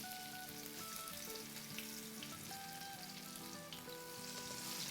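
Garlic and dried red chillies sizzling in hot oil in a pan, a dense continuous hiss with faint crackles, steady and fairly quiet, with no voices.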